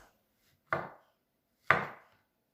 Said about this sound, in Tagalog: slice the button mushrooms thinly and also the mozzarella cheese